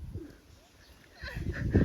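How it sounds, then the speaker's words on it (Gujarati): Pigeons at Salangpur being fed grain and peanuts, giving soft, low cooing that swells toward the end, with faint background murmurs. "આ બાજુ મસ્ત મજાના જો કબૂતરા"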